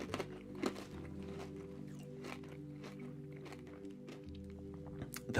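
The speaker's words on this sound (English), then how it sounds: "Do you hear how crunchy that is, though?" Crunchy caramelized candy being chewed up close, with a rapid run of crisp, crackling bites and munches over a steady low background hum.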